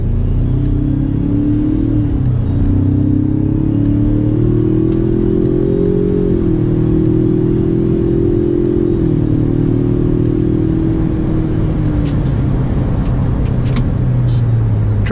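A 2019 Ford Ranger pickup truck accelerating hard in sport mode, its engine droning loud and steady with rising pitch through a gear shift or two, close and continuous with no talking.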